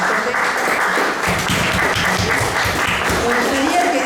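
Audience applause at a tribute event honoring a historian with a photo exhibition, a steady dense wash of clapping lasting throughout, with voices mixed in beneath.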